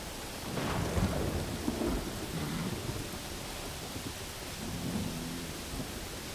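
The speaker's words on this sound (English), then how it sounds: "I load in and get struck by lightning" Thunder and heavy rain fill a stormy scene in Pathfinder: Wrath of the Righteous, with a loud rumbling crack early on over a constant hiss of rainfall that continues to the end.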